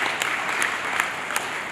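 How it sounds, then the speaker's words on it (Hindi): Continuous applause from a crowd gathered for a 77th Independence Day flag hoisting, an even wash of many clapping hands with a few sharper claps standing out nearby. "तालियां बजती रहनी चाहिए।"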